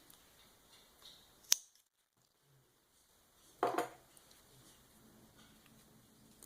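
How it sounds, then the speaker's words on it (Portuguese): Scissors snip white yarn during rug crochet work, with one sharp isolated cut followed by a louder crunchy snip a couple of seconds later, over quiet room tone. "agora eu vou cortar o fio branco"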